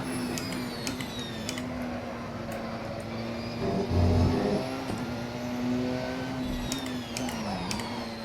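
Race car engine in the Assetto Corsa driving game, a steady droning hum held through laps with gentle pitch shifts as it accelerates and lifts, continuous and fairly loud with no talking.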